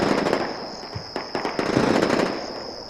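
Gunfire in the video game Combat Mission Shock Force, a rapid irregular crackle of overlapping shots and bursts over a steady high electronic tone.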